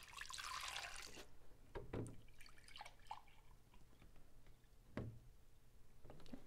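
Milk, three and a half cups of it, poured into a bowl for pudding mix, making a soft splashing rush at first, then settling into scattered drips and small trickles, close and quiet.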